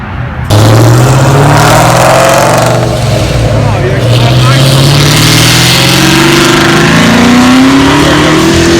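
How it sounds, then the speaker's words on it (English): A car with a modified exhaust starts and revs hard at close range, its loud engine tone climbing steadily, with a deep rumbling throughout. People talk nearby at a car show. "modified exhaust?"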